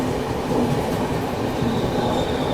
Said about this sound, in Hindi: तेलंगाना एक्सप्रेस